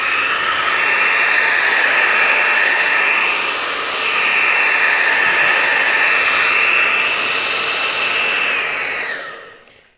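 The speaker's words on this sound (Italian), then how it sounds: "Prendiamo un phon," A hair dryer drying a Nespresso Aeroccino 4 milk frother blows with a loud, steady whooshing whine. It runs continuously, then winds down and fades as it is switched off near the end.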